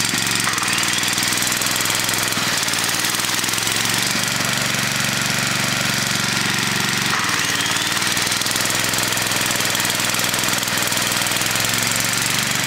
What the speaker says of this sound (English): I'm running my generator completely on the vapors that are produced by this gasifier